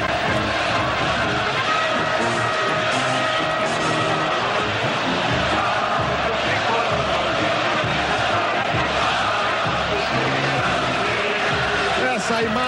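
São Paulo fans celebrate in a packed football stadium at the 1992 Campeonato Paulista final against Palmeiras: a dense, continuous roar of cheering and chanting voices that fills the whole stretch without a break.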